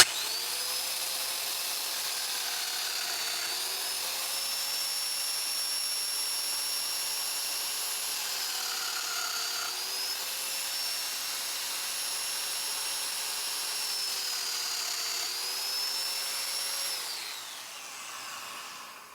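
A Festool Domino joiner cuts mortise holes in wood, giving a steady, high motor whine with slight pitch dips between plunges, running continuously and close before tapering off at the end.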